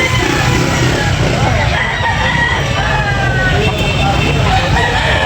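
Rooster for sale at a backyard poultry market in Carcar, Cebu, crowing amid a dense, steady crowd din with nearby engine noise and chatter.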